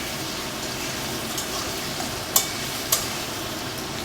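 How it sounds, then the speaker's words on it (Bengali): Potato pieces frying in oil with a pinch of salt: a steady soft sizzle with a few sharp spatula clicks near the end, and no talking. "আমি আগে আলুটাকে ভেজে নিই। সামান্য লবণ দিয়ে দেব।"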